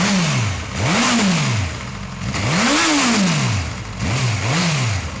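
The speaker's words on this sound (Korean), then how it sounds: "이 스타트 버튼을 한번 원터치로 자동차 버튼 누르듯이 누르면은 바로 시동이 걸립니다" A Suzuki GSX-S1000GT motorcycle engine fires up and is revved in several sharp blips, each rising and falling in pitch, loud and close with no talk.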